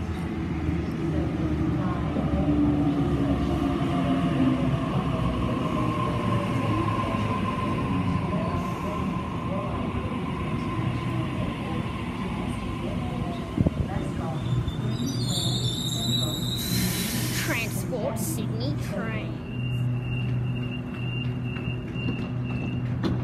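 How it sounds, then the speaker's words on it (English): A train set rolls into Padstow station, a loud continuous rumble of wheels and engine nearby, with a brief high squeal and metallic clatter near the end as it slows. "A set arriving."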